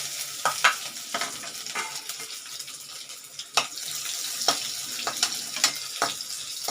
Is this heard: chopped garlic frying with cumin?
yes